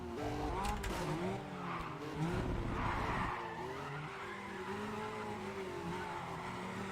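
An Acura NSX and an Opel Astra race wheel to wheel in Need for Speed: ProStreet, engines revving and shifting with tire squeal and skidding throughout, loud and close.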